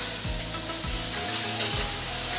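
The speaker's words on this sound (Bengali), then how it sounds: "একটু মেখে নাড়িয়ে নিচ্ছি।" Spices for a bata fish curry (cumin, ground pepper, a little sugar and salt) sizzle in oil while being mixed, making an even, close frying hiss with faint stirring underneath.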